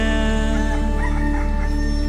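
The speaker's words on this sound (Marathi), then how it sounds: "कोंबड्याच्या आरवण्याचा आवाज" A rooster crows in the Konkan countryside at dawn, a loud drawn-out call heard over steady background music.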